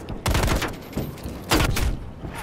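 Bursts of video game gunfire in Call of Duty Cold War, three loud, close volleys of rapid shots separated by short pauses, with a faint rumble between them.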